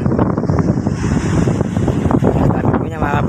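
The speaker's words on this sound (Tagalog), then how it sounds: "Yung alon malalaki pa." Strong wind and big waves pound the shore in the aftermath of Typhoon Goring, a loud, steady roar of gusts and surf with no break across the whole stretch.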